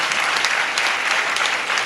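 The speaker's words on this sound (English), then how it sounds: "I think they deserve a great round of applause from all of us, these alumni." An audience applauds alumni at the Sri Sathya Sai Loka Seva Trust Sai Samarpanam 2.0 event in Alike, a dense, steady round of clapping that fills the whole stretch without voices.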